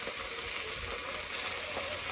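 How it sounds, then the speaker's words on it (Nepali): Leafy greens with broken chillies fry on a stove, a steady, close hiss and sizzle that continues without pause and without speech. "2टा खुर्सानी भाँचेर हालिदिनु साग परपोर भुट्नु"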